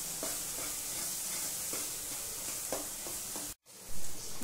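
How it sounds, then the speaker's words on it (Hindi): Masala frying in a kadhai for chole, with a steady close sizzle and periodic scraping stirs of the spoon, then a brief dropout before the sizzle resumes louder. "3 से 4 मिनट तक अच्छे से मसाला को भूनेंगे"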